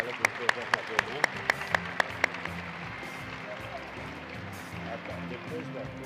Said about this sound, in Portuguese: Gostaria de pedir uma calorosa salva de palmas para todos os homenageados